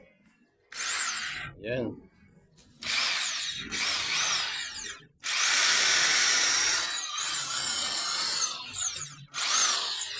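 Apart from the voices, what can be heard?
3-in-1 power tool running as a drill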